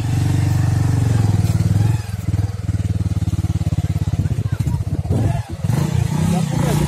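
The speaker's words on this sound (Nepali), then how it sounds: "धेरै बाइकहरू छन् यहाँ" Motorbike engines run close by at a crowded snowy spot, a loud, steady low rumble that dips briefly a couple of times, with people talking in the background.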